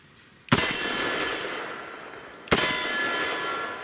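Bullets from a Colt Anaconda .44 Magnum revolver with a 4-inch barrel strike steel targets, giving two sharp, distant metallic clangs about two seconds apart, each ringing out briefly.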